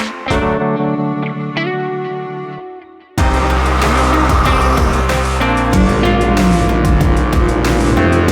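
A 2015 Hyundai Sonata Sport with a 2.0L turbo engine, in sport mode, holds a steady tone for a few seconds, then bursts into a loud, close, full-throttle roar that lasts to the end.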